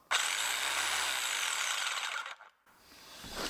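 Straight-line back-and-forth power sander running on a wood shelf strip, a loud steady buzzing hiss for about two seconds that fades out as the tool stops, then a short quieter burst of rubbing.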